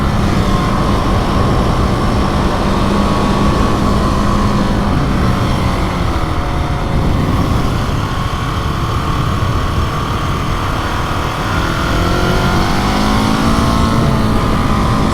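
A 701 Enduro motorcycle being ridden on twisty roads, its loud engine roaring up close with rising pitch sweeps as it shifts up through the gears, under constant wind rush.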